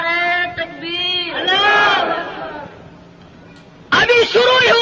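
A crowd raises loud, massed voices in unison for the takbir chant, with rising shouted bursts at the start, a quieter stretch in the middle and a fresh loud surge near the end.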